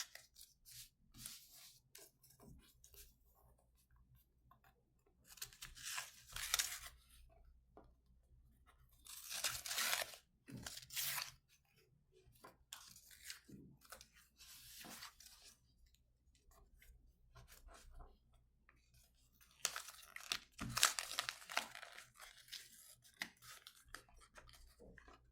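Paper wrapping torn open by hand from a parcel sent from France, in several loud ripping bursts separated by quieter rustling and crinkling, close up with no talk.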